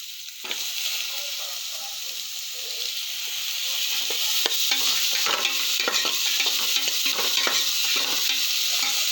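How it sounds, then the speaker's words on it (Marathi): Tomatoes with turmeric and cumin frying in a pan, a bright continuous sizzle that grows louder after a few seconds, broken by repeated scraping stir strokes, close up with no voices. "हळद घालू, हलकी फ्राय झाली पाहिजे, जास्त नाही."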